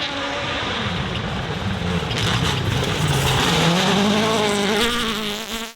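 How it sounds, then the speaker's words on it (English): A rally car, the first official car through the stage at a rally event, roars past with a rising and falling engine whine, loud and near, building to a peak and then fading. "The first official car did his first passage."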